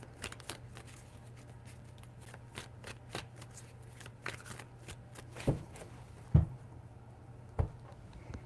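Tarot cards being shuffled in quick riffling bursts, close and fairly quiet, with a few sharper taps near the end.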